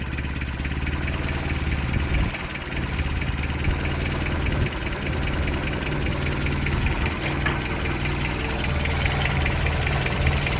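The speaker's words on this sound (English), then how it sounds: "That's a pretty decent high idle, maybe, I don't know." A 1990 Toyota Hilux pickup engine idling after its idle screw was adjusted, a steady close rumbling idle with slight knocking and a few small surges, no talk.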